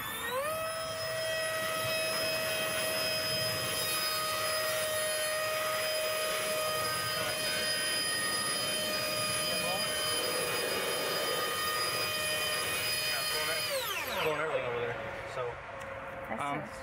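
An electric ducted fan thrust tube on a test skid runs as a loud, steady high-pitched whine with layered harmonic tones, then spools down with a falling pitch near the end.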